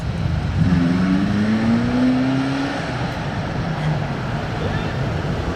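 A Ferrari F40 engine roars past on a Monaco street with a rising, whining pitch that fades as it moves away, over steady street noise and a voice.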